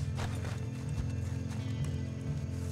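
Horse hooves clip-clop in a steady, close, even rhythm in the western game Red Dead Online, loud and continuous with no talking over them.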